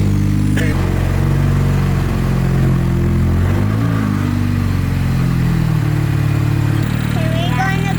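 A loud race car engine drives steadily and close by for the whole stretch, with a deep, constant rumble. Brief voices cut in near the end.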